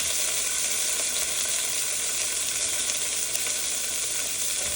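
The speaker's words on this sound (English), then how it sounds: "Get a nice sear on every side." Steak sears in a hot, oiled pan, giving a continuous, close and fairly loud sizzle that holds steady throughout without any talking.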